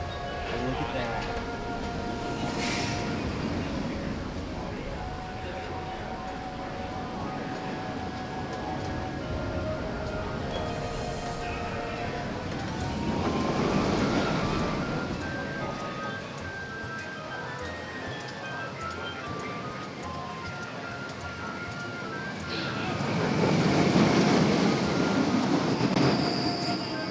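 Velocicoaster roller coaster train running through ride testing, a continuous rolling rumble with wheel squeal that swells loud around mid-clip and again near the end, with people talking over it.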